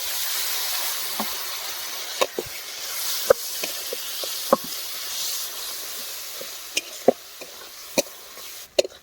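Cumin and Kashmiri chili powder sautéing slowly with a little water in a pan, giving a steady soft sizzle and hiss throughout with scattered brief stirring clicks and scrapes.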